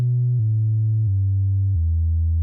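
A clean, steady sine wave from a WMD C4RBN filter synth module, holding a pure tone that steps down in pitch a few times over a couple of seconds, loud and alone.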